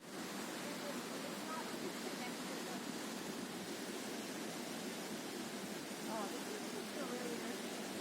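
Cascada de Rio Verde, an 80-metre waterfall at Pailón del Diablo near Baños, Ecuador, a steady broadband rushing roar of falling water, continuous and fairly distant, with no talk over it.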